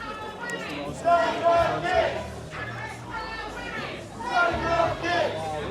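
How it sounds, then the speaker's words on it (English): Large crowd of residents gathered in the town of Braintree, a dense steady murmur of many voices with swelling chatter and occasional shouts, heard close from among the people, with nearby talk over it. "Wow, there's a hell of a crowd."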